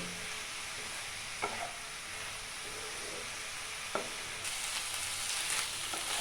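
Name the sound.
spinach being stirred and cooked in a pan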